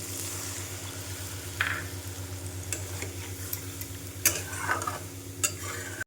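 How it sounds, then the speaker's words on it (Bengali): Water goes into a pan of fried spice masala, producing a faint, soft sizzle and a few short scraping bursts over a low, steady background hum. "এবার এর মধ্যে দিয়ে দেব জল।"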